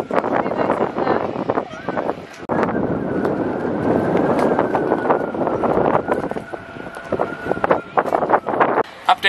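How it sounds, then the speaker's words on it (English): Strong gusty wind blows on the coast, buffeting the microphone with a constant rumbling roar that swells and drops, while people talk throughout. "It's very windy, very confusing weather, as always."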